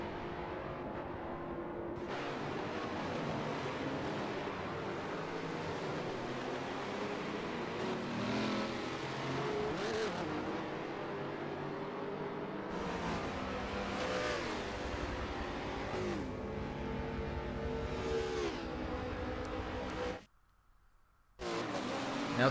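A McLaren MP4-12C race car in a racing video game drones past under sustained engine noise, with revving and surging passes over about twenty seconds, cut by a short silent gap near the end.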